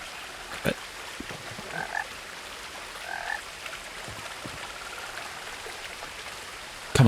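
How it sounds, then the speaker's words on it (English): Frog croaks in the game What Remains of Edith Finch, a few brief croaks over a soft outdoor ambience with light rain-like patter, fairly faint and distant, no voices. "Where's this frog? I can hear a frog."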